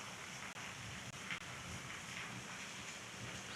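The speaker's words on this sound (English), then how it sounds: "It's north wind." North wind at an outdoor fishing spot, steady rushing buffeting against the microphone with brief dropouts, faint and continuous, no talking.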